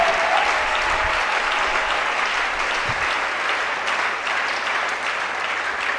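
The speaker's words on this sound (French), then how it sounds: "Masanzoli ya kobeta maboko" Congregation clapping hands in praise at a 2019 church blessing service, a steady, dense wash of applause filling the whole stretch at even loudness.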